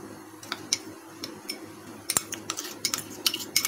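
A spoon clinks against a bowl while mixing mushrooms with arrowroot for chilli mushroom, producing a quick irregular series of light metallic taps and scrapes, close and without speech.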